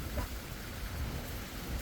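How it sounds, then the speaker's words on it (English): Severe Utah thunderstorm with high winds, a dense, loud wash of heavy rain and low rumbling thunder filling the short stretch without a break. "It's a severe thunderstorm with 50"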